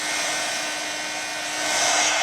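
A hair dryer blows hot air over freshly poured UV resin coasters on tiles, a loud steady whooshing roar that swells slightly near the end, with no talking.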